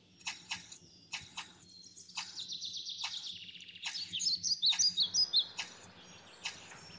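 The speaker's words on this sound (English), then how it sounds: "A naughty parrot." Bright, repeated chirps and whistled calls from a gray and white parrot, played by an educational app, come in quick bursts, ending in a rapid trill. The calls are fairly close and there is no talking.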